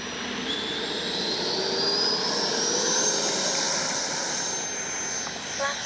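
An FMS 90mm Super Scorpion V2 RC jet taking off on a windy day, its ducted-fan engine giving a steady, loud whine with a rising pitch, joined by broad rushing air noise that swells and holds through the run.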